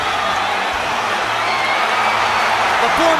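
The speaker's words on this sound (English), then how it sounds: "The crowd is in a fever pitch" Boxing arena crowd roaring throughout a bout, a dense, steady wash of cheering and whooping with a commentator talking loudly over it.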